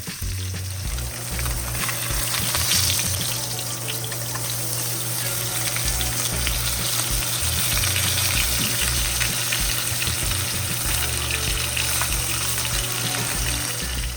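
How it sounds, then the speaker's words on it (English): Fish searing in a hot pan for pumpkin steamed fish, a loud, dense, continuous sizzle and crackle of oil that holds steady throughout with no talk. "So we're gonna sear our fish for about a minute per side."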